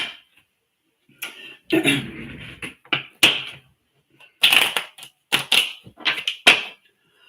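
Playing cards shuffled and a single card drawn from the deck during a late-night tarot-style reading, giving a series of brisk riffling bursts and sharp snaps, close and fairly loud with short pauses between them.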